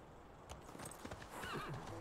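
Horses in the strategy game Civilization 6 neigh and whinny over quiet clip-clopping hooves, a short rising whinny standing out near the end, all fairly faint.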